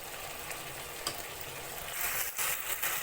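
Chicken shawarma pieces frying in a pan with a little vinegar, giving a steady close sizzle and hiss with occasional stirring scrapes, growing slightly louder near the end, with no talking.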